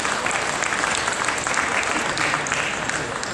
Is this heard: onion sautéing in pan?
no